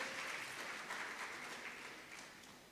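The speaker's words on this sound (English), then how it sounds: "Please give all of them a huge round of applause." Conference audience applauding in a hall, a dense wash of clapping heard at some distance, steady and then slowly fading.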